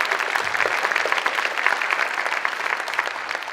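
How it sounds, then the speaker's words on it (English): A conference audience at the Hospice UK National Conference 2019 keynote claps, producing a loud, sustained, even roar of many hands that carries through without pause, no voices over it. "Please give yourselves a huge round of applause."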